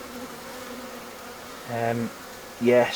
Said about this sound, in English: I don't want too many bees flying about.